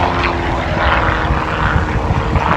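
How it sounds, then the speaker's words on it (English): A propeller airplane with a rear-mounted pusher engine, swept rear wings and wingtip rudders flying at an airshow, its loud, steady droning engine roar filling the air throughout. "avec des ailes en flèche à l'arrière et des gouvernails en bout d'aile, un moteur hélice situé à l'arrière"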